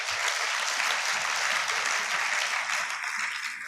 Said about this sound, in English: I think we should get a moment and give them a clap.